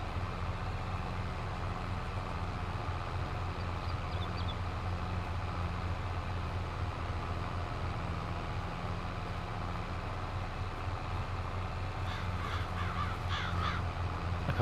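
Crows caw repeatedly over a farm field in the Farming Simulator 22 video game, the calls scattered and fairly distant above a steady low engine-like drone, with a busier cluster of caws near the end.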